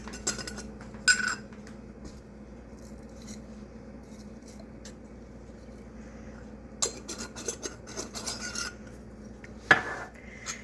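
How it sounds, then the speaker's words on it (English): Homemade fresh-tomato spaghetti sauce with a bay leaf is stirred in a pot, with soft scraping and rubbing and occasional metallic clinks of the spoon against the pot, mostly quiet with bursts of stirring. "I'm going to turn this back up now since I'm stirring it now"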